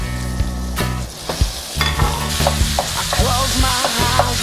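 Ground lamb frying in a pan with roasted French shallots crackles loudly and steadily, while a utensil repeatedly stirs and scrapes the pan. Nobody speaks.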